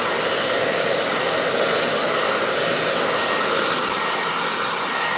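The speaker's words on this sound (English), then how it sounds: "I am going to turn this on and dry out the surface a bit." A hair dryer blows steadily over a painted rock surface to dry wet paint, a loud, close, continuous whooshing roar that holds even for the whole stretch without any talk.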